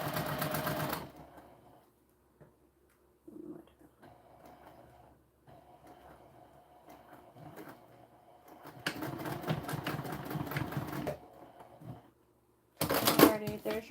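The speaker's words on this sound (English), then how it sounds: "She's sewing this at a 1/8 inch from the edge." Sewing machine stitching webbing for a bag grab handle, bursts of rapid mechanical whirring separated by pauses, moderately close, with soft speech in between.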